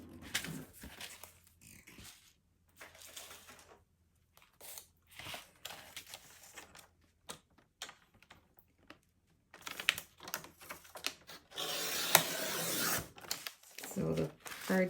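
Scissors or a craft knife trimming a crooked, foam-warped edge off a kids' birthday card base, heard as short crisp cutting and paper-tearing sounds in scattered bursts with quiet gaps, ending in a longer louder rasp.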